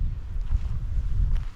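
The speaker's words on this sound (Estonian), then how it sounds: "Täna on siin hästi kõva tuul." Strong outdoor wind buffets the microphone beside open water on a pike fishing trip, a continuous low rumbling roar with gusty swells, close and loud, with no voices.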